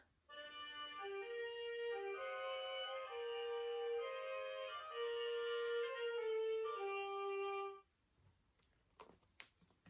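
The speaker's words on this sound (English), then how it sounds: "So here we've got flutes, clarinets, and oboes. And when they play together, it sounds like this." Flutes, clarinets and oboes play together as a small woodwind ensemble, sustaining a bright harmonized melody for about eight seconds before stopping, followed by quiet room noise.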